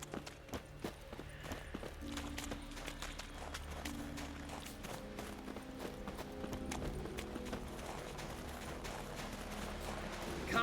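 Horse hooves clip-clop steadily in The Witcher 3: Wild Hunt, a quick regular rhythm of hoofbeats with faint tack and harness rattles, moderately close under a low ambient music bed.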